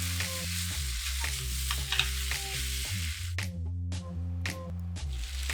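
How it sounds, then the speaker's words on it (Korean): Seared beef is stirred with other ingredients in a hot pan for a Korean hayashi rice, giving a close, steady sizzle broken by scraping stirs and wet squishing clatters. "잘 구워진 소고기를 넣고 다른 재료들과 잘 섞일 수 있도록 저어요."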